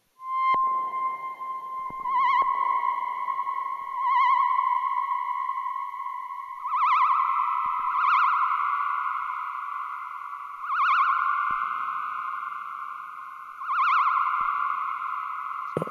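Gakken SX-150 MkII analog synthesizer playing a sustained buzzy tone with filter adjustments, repeated short swelling accents pulsing over the steady note, clear and alone.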